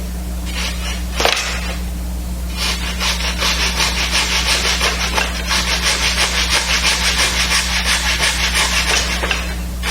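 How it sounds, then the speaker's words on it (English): A fine-toothed dovetail saw cuts miters in a small wooden miter box, a close, steady back-and-forth rasp of rhythmic strokes that starts after a brief pause and keeps going, with a constant low hum underneath. "I can cut some really super fine miters, like if I want to turn a corner and cut them"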